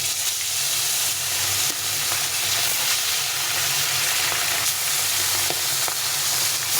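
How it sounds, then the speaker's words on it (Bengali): Fish frying in hot oil in a home kitchen, a continuous, close, crackling sizzle that holds steady throughout with no talking. "এখন এই তেলে মাছটা ভেজে নেব।"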